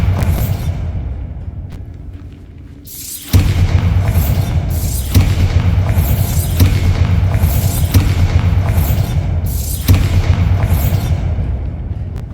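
Bombarda blasting spells detonate in the Hogwarts Legacy video game, a quiet lead-in giving way to a loud run of booming explosions about once a second, each a heavy thud with a rumbling, crackling tail.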